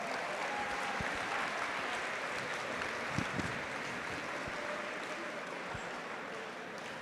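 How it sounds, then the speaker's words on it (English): Sustained applause from a large audience at a school car raffle drawing, a steady dense wash of clapping that holds evenly for several seconds with a few sharper claps near the middle. "Give yourselves a huge round of applause."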